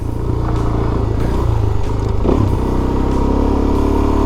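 A Suzuki DRZ400 motorcycle rides a dirt trail, its engine loud and close with a steady rumbling drone, some rattling clatter, and a slight rise in revs partway through.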